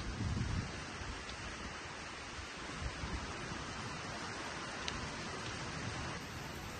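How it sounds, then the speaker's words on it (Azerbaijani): Heavy rain pours down steadily during a village storm, a dense even hiss that holds from start to finish with no voices. "Dəhşət yağış."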